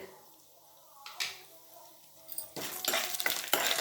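Urad dal and chana dal fry with dried red chilies in a pan. A quiet start and a brief clink lead into a strong, close sizzle with stirring scrapes.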